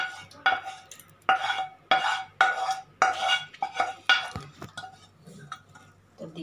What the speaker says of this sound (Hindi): इसको हम मिक्सी जार में रख लेंगे इस तरह से